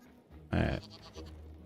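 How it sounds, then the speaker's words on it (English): A sheep bleats in the Hytale video game, one loud, close call lasting about a quarter second, with quieter game ambience and faint shorter sounds following. "We have the sheep, Jerry."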